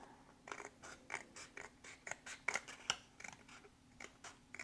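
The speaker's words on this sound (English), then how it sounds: "Just going in with my scissors to trim those top and bottom pieces right off." Repeated crisp snips of scissors cutting through card, a steady series of close, sharp cuts in a quiet room.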